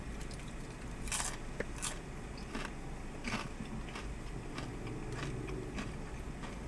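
Crunchy, crispy Red Rooster Crunch Box food is bitten and chewed up close, with several sharp crackling crunches spaced a second or so apart over quiet room noise.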